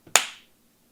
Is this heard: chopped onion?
no